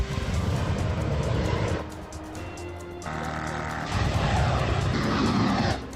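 An Iranian attack drone flies with a loud, continuous engine and propeller drone that swells and dips as it passes, rough and buzzing throughout with no speech.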